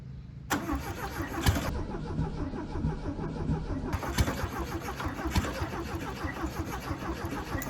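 A VW Beetle engine under restoration, fed from a temporary fuel can, cranks and catches right away, then runs with a rough, uneven idle and occasional revs, loud and close, with no talking.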